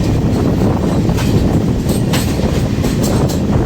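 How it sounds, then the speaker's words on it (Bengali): The Sealdah Rajdhani Express picks up speed, a loud, steady roar of wheels and carriages with a faint clickety-clack of rail joints and brief squeals, heard from close by. "রাজধানী এক্সপ্রেস ধীরে ধীরে স্পিড আপ করা শুরু করে দিয়েছে"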